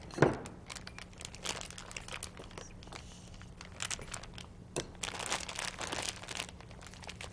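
A plastic piping bag fitted with a big star tip crinkles and crackles as banana cupcakes are frosted, with irregular close, soft bursts and pauses, no voices.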